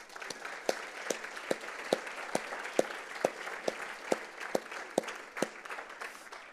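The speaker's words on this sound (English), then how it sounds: "So I'd like to just, on behalf of Condi, add my applause and your applause to what they've done." Light, scattered applause from an audience at a security forum, sparse individual claps standing out over a quiet room, fairly faint and thinning out.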